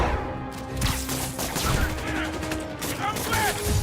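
Gunfire in a Spider-Man video game, dense overlapping shots and rapid bursts that keep up steadily, mixed with clattering game action and a faint voice.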